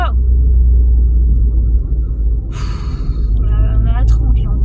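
A car driving along a road, a steady low engine and road rumble filling the cabin throughout, with people talking over it.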